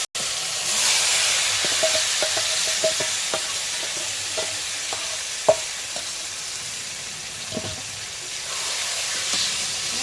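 Marinated chicken frying in a hot pan, a steady broad sizzle and hiss with scattered stirring clinks and one sharper knock midway, close and continuous with no voices.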